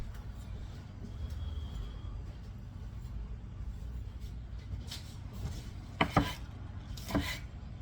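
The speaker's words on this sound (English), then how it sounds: "Now you're coarsely going to chop this." A knife coarsely chopping salad ingredients for a tuna salad with hard-cooked eggs, radishes and capers: quiet background, then a few sharp chops on a board near the end.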